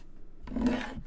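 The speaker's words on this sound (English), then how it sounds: "I am going to cut out my snail and I can trim down" Scissors cut a paper snail shape for a handmade card, giving a brief, soft, close rasping snip that lasts under a second in a quiet room.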